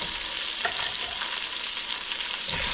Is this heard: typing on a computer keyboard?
no